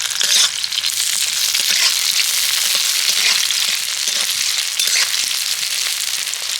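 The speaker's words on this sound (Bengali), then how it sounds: "আর একটু ভালো করে ভেজে নেব।" Onion, tomato and sliced green and red chillies fry in a pan with a steady, crackling sizzle that runs continuously and fairly close.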